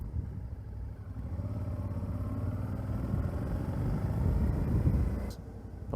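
A Suzuki V-Strom 650 with a 16-tooth front sprocket pulls away in second gear using the clutch, its engine note a steady, moderately loud rumble that builds slightly before easing off.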